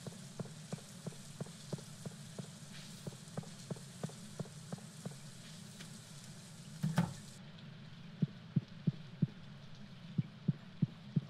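Soft, steady rain patters in the Stardew Valley farming game, with regular dull ticks and a brief louder thud partway through, no talking.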